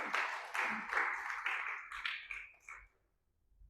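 Church congregation at a worship service claps together in a burst of about eight sharp, fairly loud rounds that die away after roughly three seconds, leaving near silence.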